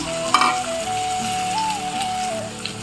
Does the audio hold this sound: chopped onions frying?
yes